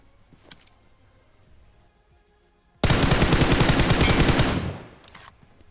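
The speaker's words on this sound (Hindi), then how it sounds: "मेरे को सामने से आता है फायर" Gunfire in the BGMI/PUBG Mobile battle royale game: a sustained, loud burst of rapid automatic fire lasting about two seconds, preceded and followed by faint ambient sound and a few quiet clicks.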